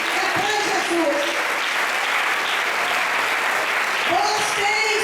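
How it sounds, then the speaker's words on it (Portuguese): A church congregation applauds at a worship service, a steady dense wash of clapping that holds for the full stretch at moderate loudness, with faint voices mixed underneath. "pode aplaudir"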